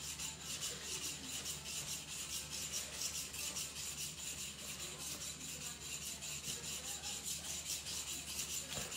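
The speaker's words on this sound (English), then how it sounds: "as I was kind of rubbing the soft steel to polish" A soft steel knife blade is rubbed to polish it, giving a continuous close scraping hiss with an even back-and-forth texture that runs steadily, with no voices.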